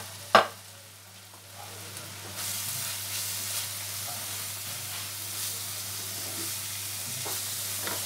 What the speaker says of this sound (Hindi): इसे भी हम फ्राई होने देते हैं। इसी में हम ये सारा मसाला डाल देते हैं।